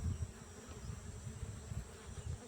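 Bees buzz with a low, steady, close drone in an onion field, while small pulsing swells rise and fall throughout.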